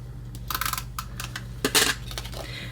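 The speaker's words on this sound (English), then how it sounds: "since it's a small piece, I'm just going to use my little tape runner here." A small tape runner pressed and drawn along a paper notecard piece, giving a string of light clicking and ticking sounds with a brief louder rasp of tape, close and quiet.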